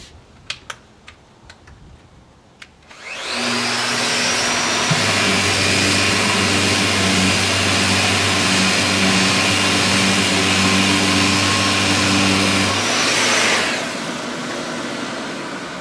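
A Festool RO-90 DX multi-mode sander with 80-grit paper on an oak cabinet starts after a few light clicks. It runs as a loud, steady motor whine with a droning hum, then winds down near the end.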